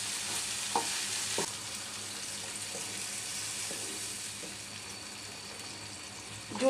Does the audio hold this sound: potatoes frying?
yes